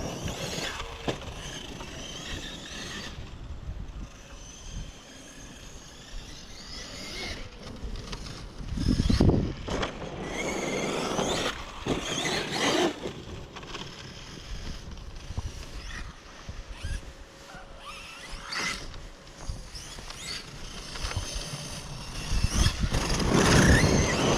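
A small RC car motor whines and rattles continuously, with metallic clattering from a dented chassis and bursts of revving that rise and fall; close by, no talking.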